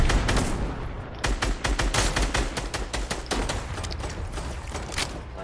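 Rapid automatic gunfire in the video game Fortnite, a dense, loud stream of close shots running almost without a break for several seconds.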